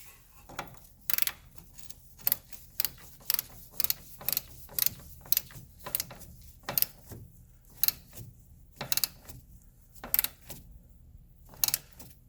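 A torque wrench set to 35 foot-pounds tightens a nut on the front suspension of a 2002 Honda CR-V, giving a close, irregular run of sharp ratcheting clicks in small clusters with quiet gaps between.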